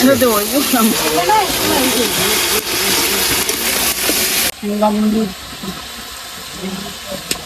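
Shrimp fry in hot oil in a Bengali village kitchen, giving a steady broadband hiss under close voices talking, with the sizzle more exposed after the talk fades.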